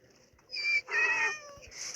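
A cat meowing in the video game Block Crazy: two bright, close meows in quick succession, the second longer and trailing off, over quiet game background.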